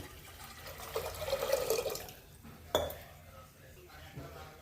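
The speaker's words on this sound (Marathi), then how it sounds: "आता परत एक तांब्या पाणी टाकून घेऊया" A jug of water is poured into a pressure cooker on the stove while making dal khichdi, a short close gush followed by a sharp metallic clink and quieter drips.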